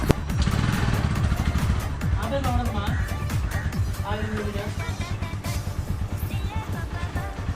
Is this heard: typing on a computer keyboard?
no